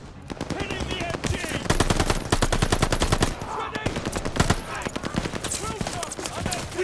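Rapid machine-gun fire from a World War II shooter game campaign, sustained bursts of dense, loud shots running almost continuously, with shouted voices from players and in-game soldiers mixed through the gunfire.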